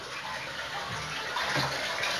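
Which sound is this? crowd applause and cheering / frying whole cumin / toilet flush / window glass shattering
toilet flush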